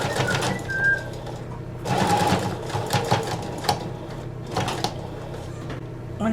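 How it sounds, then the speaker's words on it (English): A sewing machine stitches wide trim with bias tape edging in short bursts of fast mechanical whirring, close by, with quiet pauses between runs. "I'm going to sew it down"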